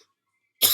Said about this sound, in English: No idea why I'm coughing.